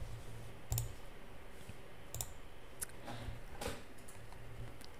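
Computer mouse clicks and keyboard taps at a desk during an Adobe After Effects session, a handful of sharp, sparse, quiet clicks over faint steady background hiss, with no talking.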